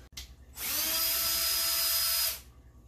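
A power drill whirs up close for about two seconds, pre-drilling steadily into wood kitchen slats before winding down.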